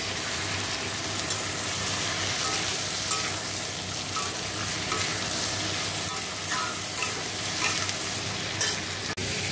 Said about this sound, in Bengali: ঝাঁকু ইঁচড়টাকে একটু ভেজে নেব, তারপর আলুটা ভেজে তারপর চিংড়ি মাছটা ভাজবো।